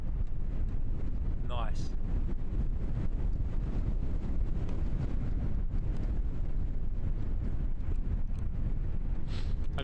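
Strong wind buffets an outdoor microphone at an airport, a steady low roaring rumble throughout, with a brief whistle early on and a short spoken word over it.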